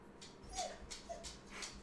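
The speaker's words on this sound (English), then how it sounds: "Let me let these dogs out. So they're gonna whine because my girlfriend's here." Dogs whining indoors, a few short high whimpers and yips in quick succession, fairly faint and close, with no talking.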